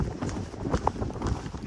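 A spirited horse running on a horse farm in winter, its hooves clopping in a fast, uneven rhythm over a busy, scuffling background at moderate loudness.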